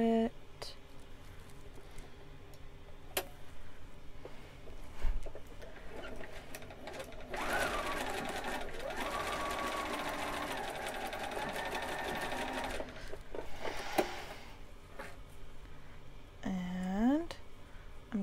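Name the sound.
sewing machine sewing a monk robe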